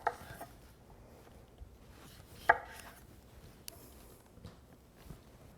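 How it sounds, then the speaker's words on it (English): Knife cutting lemons on a board for a roasting turkey, a few sharp, close chops separated by quiet pauses, with light handling noises in between. "I'm going to cut these lemons, and those will go in that roasting pan as well"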